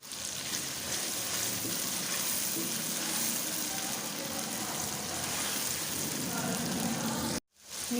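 Spices mixed into yogurt sizzling and frying in a pan for bhindi masala, a steady close crackling hiss that runs throughout and cuts out briefly near the end.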